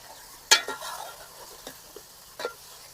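Fish curry gravy stirred in a pan, a few separate scraping strokes with a sharp clink near the start and softer scrapes later, close and fairly quiet over a faint background sizzle.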